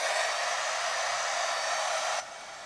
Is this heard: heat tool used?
yes